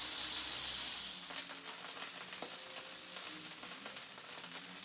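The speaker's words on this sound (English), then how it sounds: "I don't know if it's supposed to pop and sizzle like that." Food fries in a pan with a continuous loud sizzle broken by scattered sharp pops and crackles, close by with no talk.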